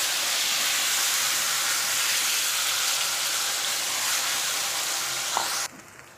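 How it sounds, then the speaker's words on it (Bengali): Onion, garlic, ginger, chilli and tomato paste hit hot oil with a loud, steady sizzle and hiss that continues evenly, then cuts off abruptly near the end. "তেল গরম হয়ে গেছে, এবার মশলাটা দিলাম।"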